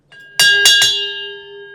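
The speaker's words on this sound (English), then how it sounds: "over to you to ring the bell and we can start it off." A hand bell rung three quick times, bright metallic strikes with a long ringing tail that fades slowly, close and clear with no talk.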